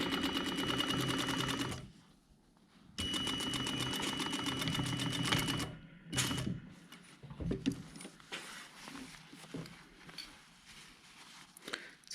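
A sewing machine stitches across a jacket's body lining hem in fast, even bursts that stop briefly and restart, followed by softer handling and fabric rustle.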